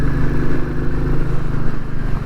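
Royal Enfield Classic 350 single-cylinder engine running steadily while riding, a close, continuous low thumping drone with slight clatter and no pauses.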